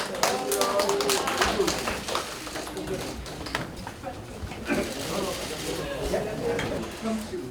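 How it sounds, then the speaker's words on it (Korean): A crowd applauds at a Democratic Party primary results event in Busan, with scattered claps strongest at the start and thinning later beneath a voice speaking over a microphone. "격려의 박수 부탁드리겠습니다"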